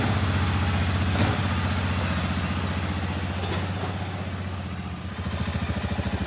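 A rebuilt Arctic Cat 400 ATV engine runs at a steady idle close by, its low, even chugging drone holding throughout with a brief bump in level early on.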